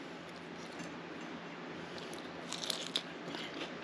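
Someone bites into crispy fried salt and pepper shrimp, giving a couple of brief, faint crunches against a quiet room hiss.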